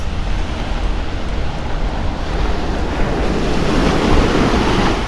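Sea waves wash onto a white-sand beach in a continuous broad roar, mixed with buffeting wind noise on the microphone.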